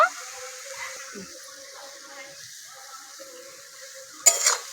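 Cauliflower and potatoes fry in spices, chili powder, turmeric and salt, with a soft continuous sizzle under occasional scraping stirs and a sharper clink of a utensil against the pan near the end.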